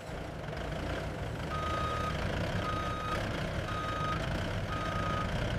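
A forklift at a silkworm cocoon loading bay sounds its reversing alarm: a steady series of evenly spaced electronic beeps, moderately distant, over a constant engine and machinery drone.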